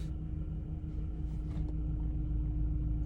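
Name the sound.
car driving to a parking spot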